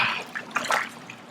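Water sloshing as a hockey player lowers himself into a hot soak tub for therapy, gentle splashes and trickling close by, moderately loud, with no talk.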